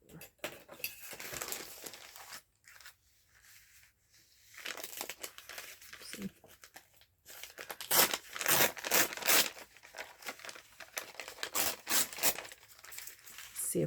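Scrap Amazon packing paper being crumpled and torn by hand, with crisp crinkling bursts that stop and start over several seconds and then grow louder and denser toward the end.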